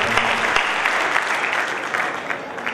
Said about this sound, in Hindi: एक बार आपकी तालियां आ जाए तो मैं भी आ रही।